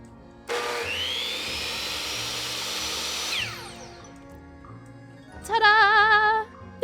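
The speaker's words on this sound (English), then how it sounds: "And now I will be sawing" A saw cuts through an assistant in modded Minecraft (Vault Hunters, version 1.18): a steady buzzing, grinding whir runs for about three seconds, then fades, and a brief warbling tone follows.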